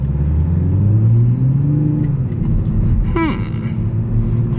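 A 2021 Toyota Supra engine rumbles steadily while driving, with a low drone that swells and shifts pitch as it accelerates, plus a brief sharper squeak near the end.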